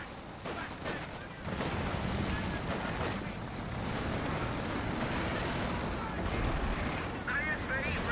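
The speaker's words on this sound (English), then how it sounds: "Infantry squad firing on us!" Gunfire rattles through a Company of Heroes 2 battle, dense overlapping bursts and distant booms rolling on under someone talking.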